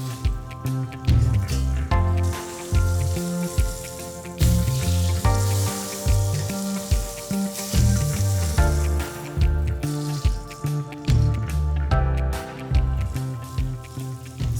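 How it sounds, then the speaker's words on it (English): A pork chop sears in a pan over medium heat, a close, fairly loud sizzle mixed with recurring tonal bursts that repeat in a rhythmic pattern every second or so throughout. "Sear both sides with medium heat until golden."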